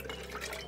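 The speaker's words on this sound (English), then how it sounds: "Pour these in at the same time." Liquid is poured into jars, a brief, soft trickle with light splashy, bubbling texture and no speech.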